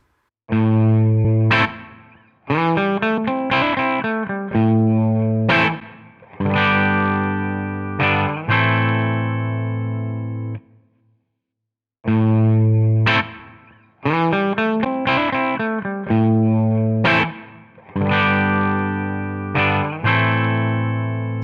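Distorted electric guitar through a Line 6 Helix amp modeler plays loud, saturated chords and riffs in repeating phrases, with short gaps and sustained notes between them and no voices over the playing.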